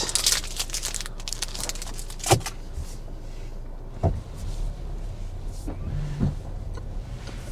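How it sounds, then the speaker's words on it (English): A few brief, quiet motorized whirs with soft clunks as a Jaecoo J8 SUV's door handles retract, spaced a couple of seconds apart, over a low steady background hum. "now that sound was the door handles sliding back into the car."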